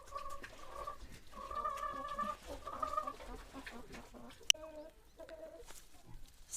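Dominant-breed laying hens cluck and murmur in a steady, soft stream, several birds nearby, with a brief sharp click partway through.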